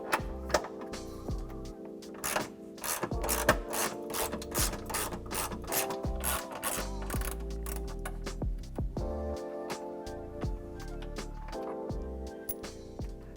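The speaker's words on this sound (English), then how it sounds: "we're gonna use a 1/2-inch socket to remove that" A ratchet fitted with a 1/2-inch socket backs out a fender bolt on a 2018-2020 Ford F150 5.0L during a cold air intake install, giving bursts of rapid clicking strokes over a steady tonal backdrop.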